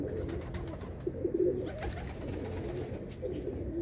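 Pigeons cooing softly nearby in a loft, a few low rolling coos rising over a quiet background, with one fuller burst of cooing in the middle.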